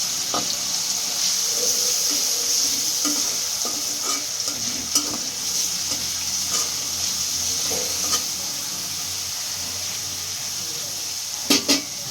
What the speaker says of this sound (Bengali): পেঁয়াজটাকে ভাজি করে নিচ্ছি